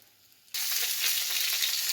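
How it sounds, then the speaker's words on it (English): After a half-second of quiet, loud crackling sizzle of food frying in a pan bursts in and holds steady. "they're starting to sizzle"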